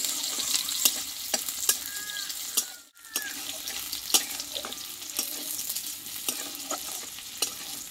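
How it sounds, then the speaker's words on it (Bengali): Garlic and onion frying in a pan, a continuous close sizzle broken by clicks and scrapes of stirring, with one brief dip in the middle. "দেখো রসুন পেঁয়াজটা একটু ভালোভাবে একটু লালচে করে ভেজে নেবো"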